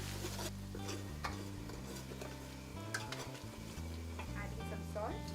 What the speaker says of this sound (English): You put the chili powder, coriander powder, jeera powder and turmeric powder and fry for some time.